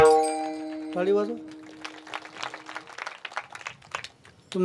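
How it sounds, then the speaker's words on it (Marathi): An audience at a Marathi kirtan claps in scattered, uneven bursts after a sustained sung or instrumental tone, with voices heard among the claps. "टाळी वाजव."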